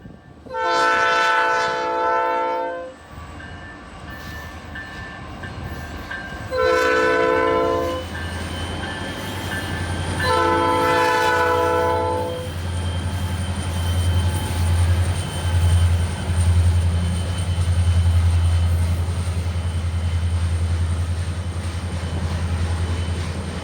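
A BNSF freight train passes the Wolsey diamond, its horn sounding three long blasts while a low rumble of the locomotive and rolling cars builds and holds steady close by.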